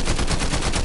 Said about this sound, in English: There's a team shooting at me